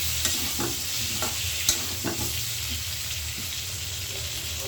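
Potatoes frying in hot oil for biryani, a loud continuous sizzle close by with occasional clinks and stirring scrapes of a utensil in the pan.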